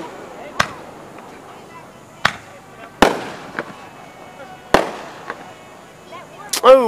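Fireworks bursting at a Kentucky show, several sharp booming explosions spaced a second or two apart, fairly loud and distant, with excited voices exclaiming between the blasts and a whistling rocket near the end.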